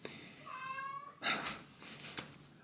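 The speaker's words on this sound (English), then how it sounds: "It's my cat." An indoor cat meows close by, a drawn-out tonal cry followed by a couple of shorter, rougher calls, moderately faint with no talking over it.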